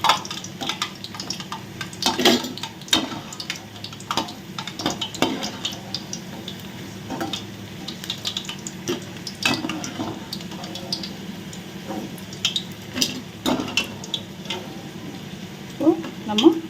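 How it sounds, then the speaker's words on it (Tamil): Fried cauliflower 65 pakoda tipped into a metal vessel: scattered clinks, rustling and faint crisp sizzle in a kitchen, with someone talking throughout. "நம்ம பாத்திரத்தில் போடும்போது அந்த சவுண்டு கேட்குது பாருங்கள்"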